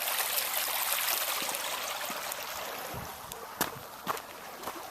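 A stream runs steadily past outdoors, a broad, continuous wash of flowing water close by, with a few faint knocks or footsteps near the end.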